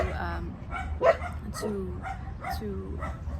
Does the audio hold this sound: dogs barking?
yes